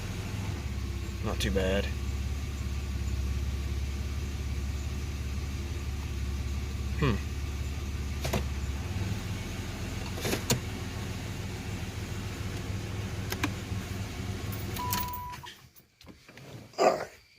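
A Chevrolet Lumina Euro with a 3.1 V6, idling steadily nearby and running on all six cylinders, with a low engine drone under brief speech and some clicks before the engine cuts out near the end.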